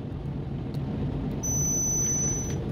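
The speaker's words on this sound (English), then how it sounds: "testing it easy by the multimeter, and you can see it's on a continuity by simply touching both. You hear the sound." A multimeter gives a continuity test beep on a microwave fuse, a steady high-pitched tone lasting about a second over a low, constant background hum.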